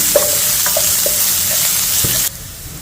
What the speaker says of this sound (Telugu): 1 బిగ్ సైజ్ ఆనియన్ వేసి లైట్ గోల్డెన్ బ్రౌన్ కలర్ వచ్చేంత వరకు ఫ్రై చేయండి